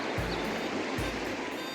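A river running beside a rocky path near a waterfall, heard as a continuous broadband rush of flowing water, steady and fairly loud with no voices.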